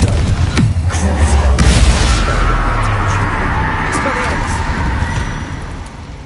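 A Confringo explosion spell from Hogwarts Legacy bursts with a loud, deep boom near the start, then a rumbling crash and debris that fade slowly over several seconds.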